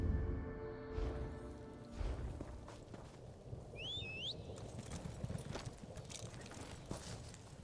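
Horse hooves in the video game Elder Scrolls Online, a faint, soft clip-clop of steps plodding along under quiet game ambience, with a brief high whinny-like call midway.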